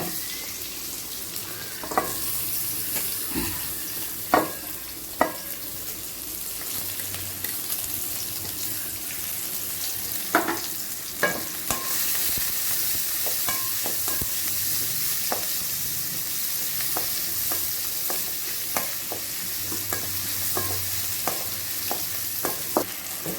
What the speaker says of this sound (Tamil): கொஞ்சம் எண்ணெய் ஆயில் போட்டிருக்கிறேன் இப்போ வெங்காயம் போட்டுக்கிறேன்